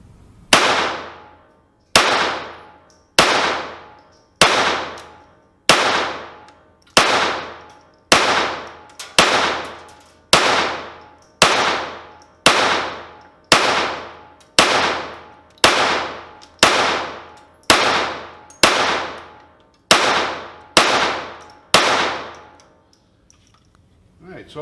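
A Sig P322 pistol fires at a target on a range, with a long, evenly paced string of about twenty sharp, loud shots, each followed by a brief ringing decay, ending in quiet.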